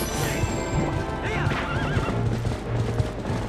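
Horse neighs and whinnies with steady clip-clop hoofbeats in the Zelda Twilight Princess HD video game, a loud whinny rising over continuous trotting and game sounds throughout.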